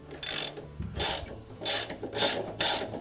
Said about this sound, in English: we're just going to give that a sharp snap with the ratchet just to break it free